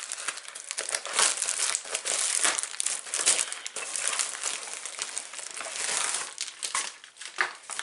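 A March 2016 Ipsy bag is opened close up, giving continuous loud crinkling and crumpling of plastic packaging with irregular sharp rustles and no voices.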